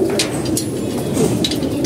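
A young pigeon coos softly and close by in a few low, throaty bursts, with light rustling between calls and no talking.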